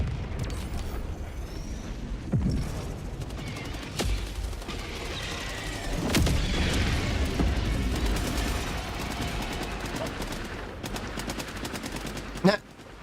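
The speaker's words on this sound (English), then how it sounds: "Calling in an orbital strike." Orbital strike explosions and heavy gunfire in Helldivers 2, a dense, continuous barrage of booms and rapid shots with sharper blasts near the middle and at the end, with occasional voice chatter underneath.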